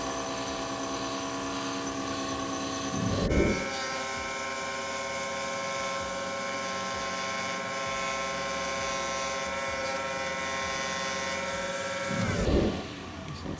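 Pen blank of finger-jointed pine with walnut and purple heart accents, spinning at high speed on a lathe while being polished: a steady, high-pitched mechanical whine with a sustained hum, ramping up near the start and winding down near the end.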